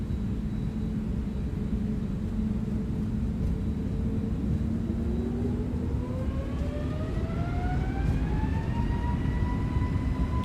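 Twin engines on an Airbus A321neo spool up for takeoff in the ToLiss flight simulator, a steady rumble under a rising whine whose pitch climbs smoothly through the second half.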